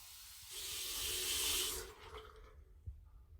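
Tap water running into a cup to refill it with fresh water, a hissing pour that swells for about a second and a half, then stops, followed by a few faint drips and a small clunk.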